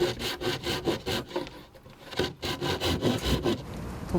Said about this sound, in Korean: 그런데 병원에서 갑자기 톱질은 왜 하시는 걸까요?